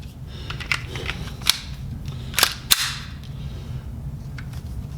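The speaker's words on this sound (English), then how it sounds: "I'm going to try and put the rounds in that with this one." Cartridges being pressed into a pistol magazine for a Canik handgun, heard as a few sharp metallic clicks spaced across the clip over a steady low background hum.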